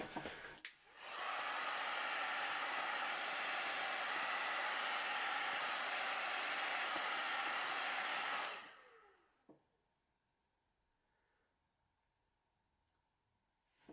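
A hair dryer runs steadily for about eight seconds, drying a layer of ink on a two-color print, giving a loud, even blowing hiss that then cuts off, leaving near silence with a faint click.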